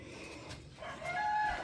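Hens in a freshly cleaned backyard chicken coop give a short burst of squawking and clucking that rises at the end, close and fairly loud over outdoor background noise.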